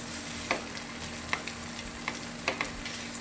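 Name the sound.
smoked duck frying in a pan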